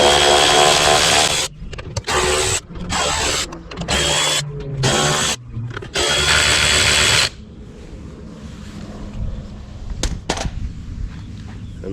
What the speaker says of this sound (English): I'm just going to use my electric ratchet to take those off.